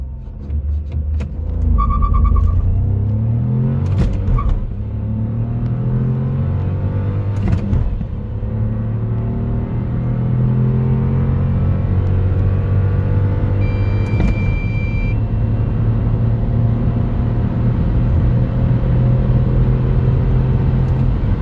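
A Dacia Duster 1.0 LPG ECO-G 100 engine running on LPG revs up and pulls hard, rising rumble as it accelerates steadily, with gear changes breaking the climb.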